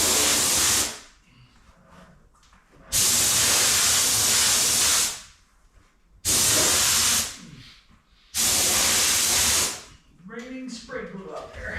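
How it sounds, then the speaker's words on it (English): An aerosol can of spray glue hisses in three long, loud bursts of several seconds each, applied while hanging leather in a garage, separated by quieter gaps with handling noise. "Raining spray glue out there."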